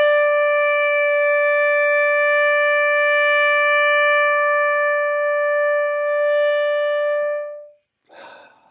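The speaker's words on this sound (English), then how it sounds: "To start off with, play the first note for 10 seconds." A single sustained first note of Shepherd's Hey on a woodwind or brass instrument, held steady and loud for about seven and a half seconds before stopping, followed by a short breath or rustle.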